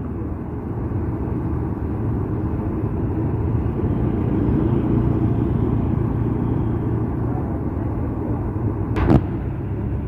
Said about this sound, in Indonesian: Bus Akas jurusan Surabaya Jember sudah tiba di terminal